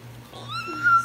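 A house cat gives one short, rising meow near the end of a quiet second, close by and fairly soft, with faint room hum underneath and no talk.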